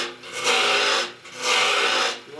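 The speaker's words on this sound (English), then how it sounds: "to turn about right there with the gouge. So this is going to be a taper, concave taper" A gouge cutting a concave taper on a wood-lathe stretcher, two long rasping cutting passes swelling and fading, close and fairly loud with no talk.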